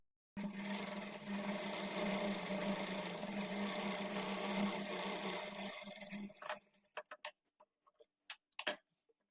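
A sewing machine stitches the front part of a kurti in one steady close whirring run for about six seconds, then stops, followed by a few scattered clicks and knocks.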